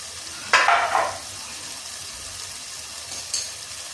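Bread for a vegetable sandwich roasting in oil in a pan, giving a short loud sizzle as it hits the hot surface, then a faint steady fry with a brief second hiss.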